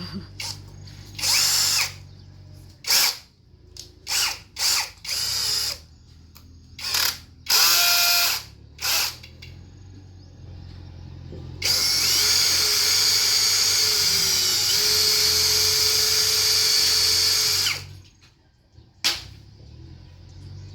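A power tool runs in short bursts of whirring and ratcheting as it spins nuts and bolts on a vehicle, then drives one long steady stretch close by. Its loud mechanical whine stands out against quiet gaps.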